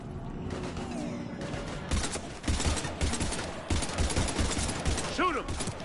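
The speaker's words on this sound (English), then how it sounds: "I've got Lieutenant Vega with me, but we're taking heavy fire." Heavy gunfire in a combat scene from Mass Effect 3, dense bursts of rapid shots in loud clusters, with voices and a whooshing tone near the end.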